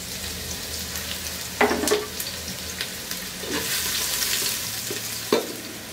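Chopped medium-to-large Bangladeshi onions fry in ghee for a new-potato vegetable pulao, giving a steady close sizzle broken by a few sharp stirring knocks from a spoon against the pan.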